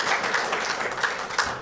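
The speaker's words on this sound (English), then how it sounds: "let's give them a big round of applause" A short burst of audience applause at a public history program on the Oak Ridge Bombers baseball team, steady and moderately loud, with a few sharper claps standing out.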